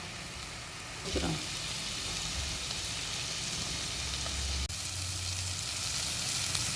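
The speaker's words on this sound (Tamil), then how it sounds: "நல்லா ஃப்ரை ஆகட்டும்." Steady, hissing sizzle of food frying in a pan, loud and continuous, with a brief clink of a utensil partway through.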